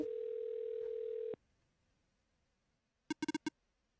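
A telephone call goes unanswered: a steady electronic ring tone holds for over a second and cuts off, then after a pause a quick burst of five short beeps sounds close and clear on the line.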